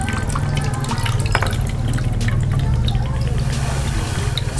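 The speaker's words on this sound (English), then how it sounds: "So now you're gonna wanna take your bowl and drain the water." Fresh coconut water drains from an opened coconut into a bowl, a steady trickle with scattered drips and splashes. Light clattering sounds under it, and there is no speech.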